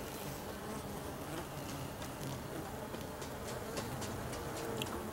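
Honey bees hum in a continuous, even drone at an open hive during an inspection, close and fairly quiet, with no voices.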